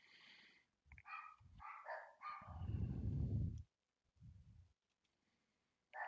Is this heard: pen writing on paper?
no